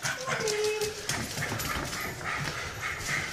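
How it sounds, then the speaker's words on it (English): A dog at a new house by Karaka Bay whimpers and yips close by amid steady outdoor background noise, with a brief whining note early on and scattered small vocal sounds throughout. "Hey, Scruffy dog!"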